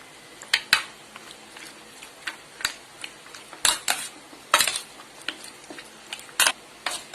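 Chicken pieces being mixed with ginger-garlic paste and curd in a metal bowl, with scattered clinks and taps of a spoon against the dish, some sharper knocks among softer stirring.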